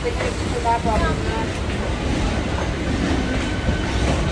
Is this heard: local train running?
yes